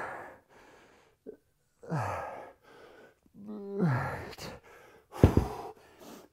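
Heavy breathing after a kettlebell workout with a 25-pound bell: a series of deep sighs and gasping breaths in separate bursts, close and moderately loud, with short pauses between them.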